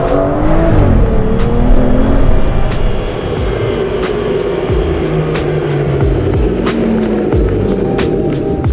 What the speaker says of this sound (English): it is a very, very torquey V12 and the traction control system is a little rudimentary, so it does allow for a fair bit of slip